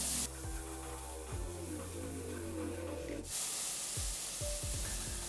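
Corn and spinach sizzle in a hot pan while being stirred, a bright steady hiss with clattering utensil scrapes, and a louder burst of sizzling partway through as more goes into the pan.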